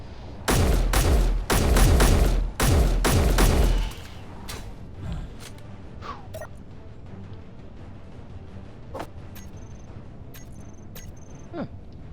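A video game airstrike opens with three loud, rapid bursts of gunfire and explosions in the first four seconds, followed by quieter scattered impacts, clinks and faint ambient noise.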